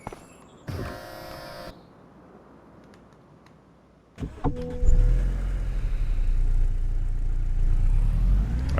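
A car in the video game Farming Simulator 25 cranks and catches, then idles with a steady low rumble that grows louder, after a brief electronic buzz and some clicks.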